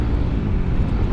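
A motorcycle fitted with an aftermarket Rope One exhaust gives a loud, steady, deep rumble, close by and alone, in a brief burst.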